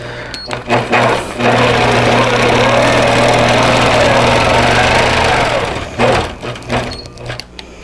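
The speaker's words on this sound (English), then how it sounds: "When I finish sewing this time though, I'm going to leave my machine where it is." A quilting sewing machine runs in one long, steady, loud whir of stitching for about five seconds. Short bursts of handling and clicks come before and after the run.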